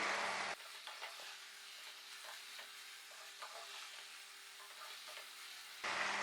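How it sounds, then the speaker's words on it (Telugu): Ivy gourd fry being stirred in an open pan, soft continuous sizzle with gentle scraping and tossing strokes at an even pace, close but quiet, without speech. "మూత పెట్టకుండా దగ్గరే ఉండి అటు ఇటు కలుపుకుంటా అంటే శుభ్రంగా మగ్గిపోతుంది"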